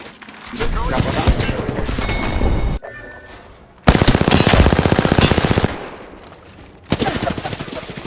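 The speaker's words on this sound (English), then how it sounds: "Shooting at me. Firing." Rapid automatic gunfire in a video game, loud sustained bursts of machine-gun fire broken by short pauses, a quieter gap near the middle before a heavy volley resumes and another starts near the end.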